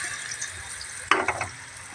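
Mashed elephant yam added bit by bit to hot coconut oil in a pan, a soft steady sizzle that jumps into a sharper crackling burst midway, then settles back down; no voices.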